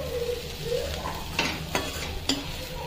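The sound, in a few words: vegetable sabji being sautéed in a pan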